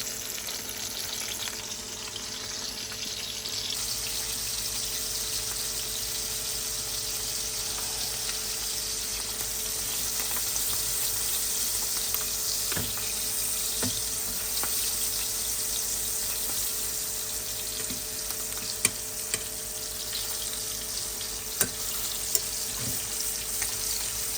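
Cajun-style pork chops sizzle in a pan with a steady, moderate frying hiss, with a few faint clicks and taps near the end.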